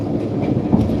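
Amtrak passenger train riding the rails toward Sacramento, a steady low rumble with faint clacking, heard from inside the car.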